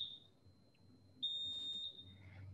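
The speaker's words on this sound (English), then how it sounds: "This one should trigger the beep." An electronic beeper triggered through a Makey Makey board sounds a steady high tone, first briefly, then again for about a second as a louder sustained beep in a quiet room.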